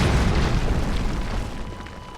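A bomb flower detonates in Zelda: Tears of the Kingdom, a loud, deep booming blast whose low rumble fills the moment and then slowly fades away, with no speech.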